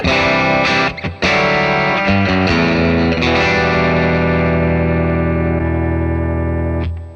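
An electric guitar played through a Dr. Z Z-80 amp with a Z cab impulse response: a few distorted strummed chords, then one chord left ringing and slowly fading.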